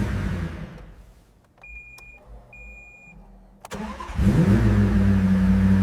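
A restored 2021 Lamborghini Aventador comes to life: faint beeps and a quiet mechanical click, then a sharp start and a loud, deep, steady idle that fills the last seconds.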